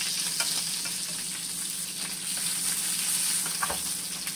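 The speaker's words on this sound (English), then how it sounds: "Okay, so we're getting the sear that we want." Beef chunks sear in a hot pan for caldo de res, a close, steady sizzle with bright crackling and occasional sharper pops.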